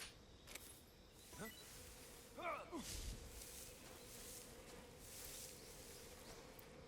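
Angry bees swarm in the stealth game Metal Gear Solid Delta, a faint, steady buzzing drone that rises and falls over several seconds, with a few brief chirping calls and light rustling on top.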